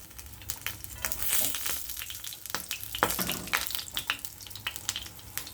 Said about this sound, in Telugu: ఇలా ఫ్రై అయిన తర్వాత ఇంకోవైపు టర్న్ చేసుకోవాలి